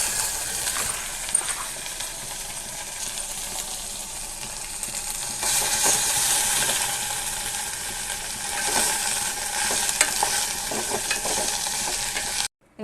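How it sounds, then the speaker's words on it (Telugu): Okra pieces frying in oil in a pan for a chutney, a steady close sizzle with stirring scrapes throughout that grows louder about halfway through, with no talk. "బెండకాయ ముక్కలు అయితే ఇలా బాగా ఫ్రై చేసుకోవాలి, కొంచెం బ్రౌన్ కలర్ వచ్చేలాగా ఆయిల్ వేసుకొని మనం బాగా అది ఫ్రై చేసుకోవాలి."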